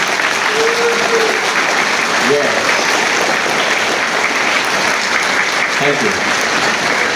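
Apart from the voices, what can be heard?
applause from school audience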